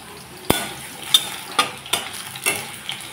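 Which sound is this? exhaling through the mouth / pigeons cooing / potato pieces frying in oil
potato pieces frying in oil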